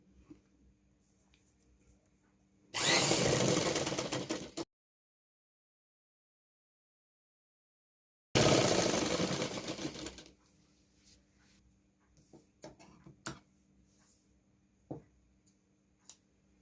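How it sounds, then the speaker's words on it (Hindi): A sewing machine stitches a kurta neckline in two steady runs of about two seconds each, separated by silence, followed by faint clicks and cloth handling nearby. "करने के बाद यहाँ पे हम सिलाई लगाएंगे।"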